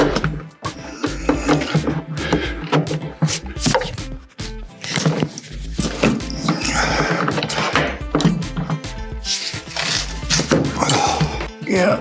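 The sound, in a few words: removing a seat belt buckle from a Porsche 914 interior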